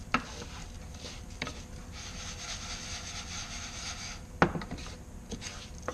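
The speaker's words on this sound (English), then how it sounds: "What we want to do is we want to go and brown the Orzo." Orzo browning in butter in a pan gives a soft continuous sizzle and scrape, with a few sharper clacks of a utensil against the pan.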